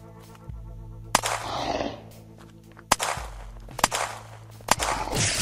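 Four sharp pistol shots ring out at irregular intervals in the video game Unturned, each a loud crack over a steady low game ambience.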